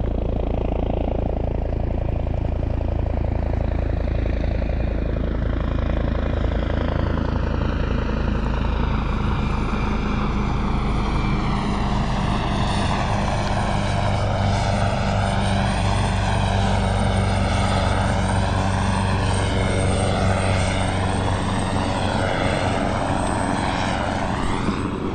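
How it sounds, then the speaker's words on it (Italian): A helicopter flies overhead above the sea during a kayak outing. Its steady, loud rotor and engine roar builds and shifts in pitch as it passes close by, with no talking. "elicottero."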